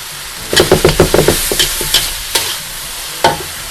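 Minced pork with holy basil stir-fried in a pan, the spatula scraping and clanking in a quick burst of strokes over a steady sizzle, then a few slower, scattered scrapes.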